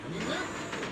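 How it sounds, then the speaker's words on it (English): A hover bus in the game Zenless Zone Zero pulls away with a rising, vehicle-like engine whir, a short close surge that swells and holds without speech. "Oh, the hover bus is here!"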